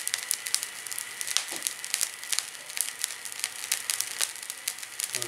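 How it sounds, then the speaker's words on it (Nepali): Chickpeas roasting in a dry pan give off sharp, scattered pops and crackles, irregular and close, over a faint hiss, with no talking. "चना आफै फुट्न थालिहाल्यो।"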